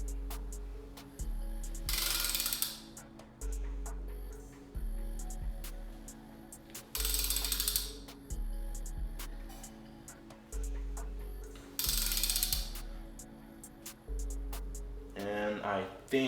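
Compression noises come from a Nissan RB26 engine in a Skyline R32 GT-R turned by hand. A low, periodic ratcheting and clicking repeats in steady cycles, broken by three short, loud hissing bursts of air, all close by with no talk.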